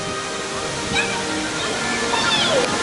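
Fountains splash steadily at Kings Dominion amusement park near the Berserker and Dominator roller coaster entrance, a continuous broad wash of falling water heard close and alone.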